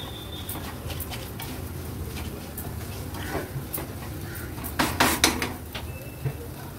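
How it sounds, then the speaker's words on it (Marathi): Dry fruits and semolina being sautéed in a pan for a Ramnavmi veg thali, giving scattered scraping clinks and taps of a utensil against the pan over a steady background hiss, with a louder cluster of clatter near the end. "ड्रायफ्रुट्स फक्त एक 2 मिनिटासाठी ह्या रव्यासोबत आपल्याला परतून घ्यायचे।"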